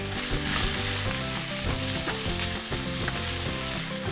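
Ham and spaghetti fry in a pan for spaghetti carbonara. A dense, loud, steady sizzle sounds close up, mixed with stirring and scraping against the pan, and no voices are heard.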